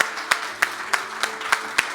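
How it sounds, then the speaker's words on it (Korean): A congregation at a Korean-Mexican church service in Mexico claps together in a steady, even rhythm, about seven sharp, close claps over two seconds with a faint hum beneath. "Todo este aplauso de gloria para nuestro Dios"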